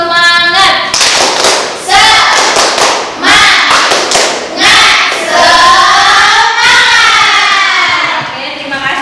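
Students in a lecture perform a rhythmic spirit clap, loud patterned hand claps and thumps mixed with chanting voices, the group sound rising and falling in short bursts.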